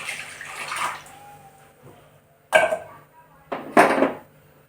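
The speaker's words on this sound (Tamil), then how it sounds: "அவிக்கும் போது இந்த புளி தண்ணி ஊற்றுவோம்" Tamarind water pours into a pot in a few short splashing bursts, close by, separated by quiet pauses with faint clinks.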